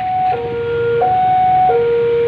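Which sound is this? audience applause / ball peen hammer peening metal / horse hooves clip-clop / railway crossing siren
railway crossing siren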